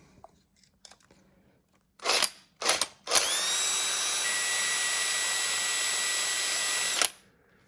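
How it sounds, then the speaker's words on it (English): A power drill whirs in two short bursts, then runs steadily with a high whine for about four seconds before stopping, drilling into a battery; close and loud. "I thought what I would do is to drill into here so that I could attach my wire"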